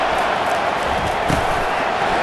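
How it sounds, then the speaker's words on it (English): A packed stadium crowd in College Football 25 at Georgia versus Georgia Tech, a dense, steady roar of voices filling the space at constant loudness. "This crowd, full throat, splitting the eardrums and letting them know it's going to be a long day"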